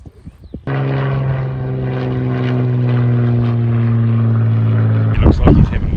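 A small propeller plane drones loud and close in a steady, deep engine hum lasting several seconds, with brief talk just before and after it.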